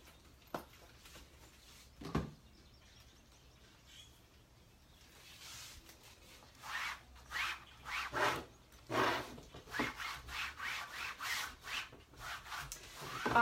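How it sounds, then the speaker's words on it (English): Rag rubbing across a painted chalk-art watering can, starting with a few light bumps, then building into a steady run of close swishing strokes that grow louder toward the end. "So now I'm just gonna wipe it down."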